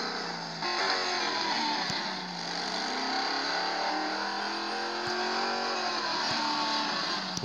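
Richard Petty Ford Fusion race car in Real Racing 3, its engine droning loud and steady at high revs throughout, pitch rising and dipping slightly through the turns, with no talk.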